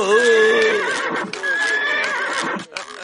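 A horse gives loud, shrill whinnies, the neighs rising and falling in two long bursts close up, with clip-clop hoofbeats and faint voices underneath.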